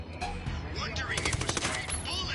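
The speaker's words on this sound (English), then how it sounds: "I'm opening fire." Video game gunfire in Ghost Recon Wildlands, a rapid run of sharp overlapping shots and bursts mixed with game noise, fairly loud and close.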